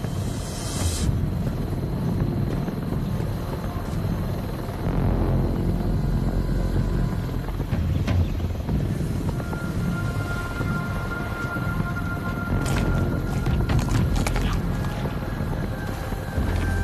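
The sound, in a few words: helicopter in video game Arizona Sunshine 2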